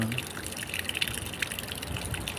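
Water gushes and spatters steadily from a water pump outlet left in a demolished house, a continuous hissing splash with small fluctuations, fairly close.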